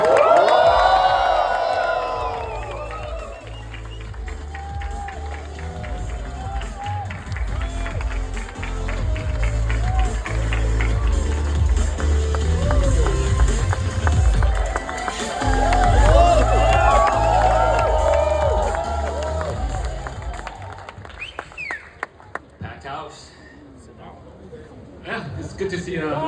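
A large conference audience at Binance Blockchain Week 2024 claps and cheers as a guest walks on stage, a broad sustained roar of applause and whoops that swells, dips, and fades while a voice carries over it.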